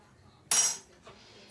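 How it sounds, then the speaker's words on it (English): A spoon stirs a hot toddy sweetened with simple syrup in a glass, giving one bright clink followed by a short scrape and a faint second tap, close and quiet. "stir this up"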